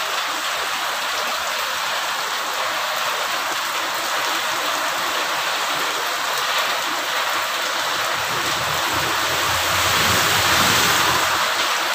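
Heavy rain pours down steadily outdoors, a dense, continuous hiss of downpour drumming on surfaces with no let-up, loud and close throughout.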